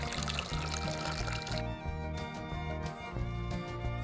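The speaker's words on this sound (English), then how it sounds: "Next up, we need to add some water." Water poured into bread dough in a toy kitchen, a soft, steady stream half buried under loud, continuous background music.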